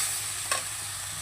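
Chopped ash gourd frying in a home kitchen pan, a soft steady sizzle hissing throughout with a single brief scrape of stirring midway, close and without talk.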